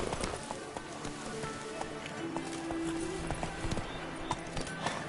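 Horse hooves clip-clop steadily at a trotting pace, fairly close, with an occasional snort and light background noise; no talking.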